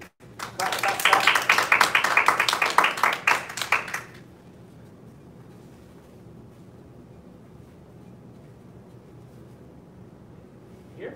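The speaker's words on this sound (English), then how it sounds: "Clap, clap, clap" A small group claps for a Tai Chi green sash promotion, a close, brisk burst of overlapping hand claps for about four seconds that stops abruptly, leaving quiet room noise.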